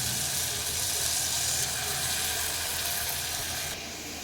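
Ginger garlic paste sautés in hot oil in a home kitchen as dinner is cooked: a steady, loud, close sizzle and hiss that carries on without pause, easing slightly at the very end.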